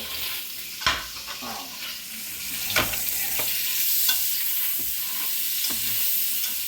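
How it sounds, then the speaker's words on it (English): Bacon sizzles steadily in a frying pan, a close crackling hiss broken by occasional sharp scrapes and knocks of a utensil stirring against the pan. "There's something soothing about the sound of bacon sizzling."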